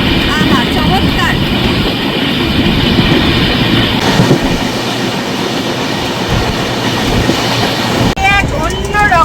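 A passenger train rolls along rails past tea gardens and hills in light rain, a steady close rumble and rattle of carriages lasting throughout, with a faint voice talking underneath.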